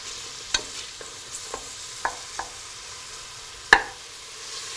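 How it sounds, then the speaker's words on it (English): Finely chopped onions softening in a pan, a faint low sizzle under scattered light clicks and taps of a utensil stirring, with one sharper knock near the end. "just simply fry the onions until they're just soft"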